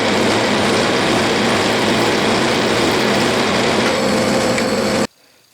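A steady, loud whirring starter drill bores into a magnetic dial indicator holder, running continuously for about five seconds, then abruptly stops, leaving quiet room tone.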